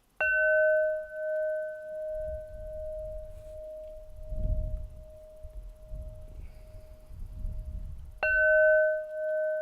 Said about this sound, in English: let's just have the bells